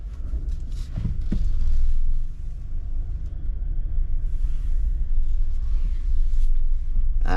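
A 2024 Jeep Wrangler Rubicon on a night drive, heard from the cabin as a steady, fairly loud low rumble of engine and road noise with faint thumps.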